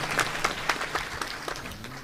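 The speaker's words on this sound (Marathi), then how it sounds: "एकदा टाळ्या वाजवा त्यांच्या नावाने" Audience applause at a devotional kirtan gathering, a short burst of scattered hand claps rising and falling for about two seconds, moderately loud with a faint tonal drone beneath.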